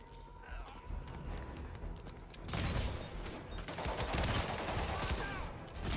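Enemy gunfire in Marvel's Spider-Man Remastered on PS5: rapid bursts of shots clattering close by, growing denser and louder halfway through amid game noise and a talking voice.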